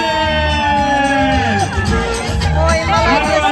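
A crowd at a Sabantuy festival in Sterlibashevo shouts and cheers for the winning riders of a horse race, a steady, loud wall of mixed voices and whoops with talk running through it.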